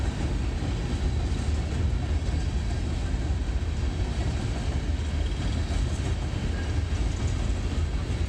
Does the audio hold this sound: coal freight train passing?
yes